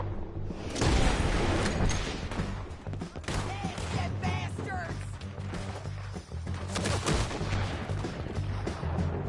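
Gunfire in Red Dead Redemption 2 during a shootout, with repeated loud shots and bursts cracking over busy combat noise, interspersed with shouting voices and someone talking.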